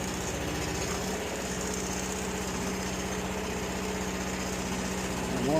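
A cheap Chinese mini skid steer's small engine runs steadily after starting, a loud, close, even chugging idle that holds throughout and swells slightly at the very end, with no talk.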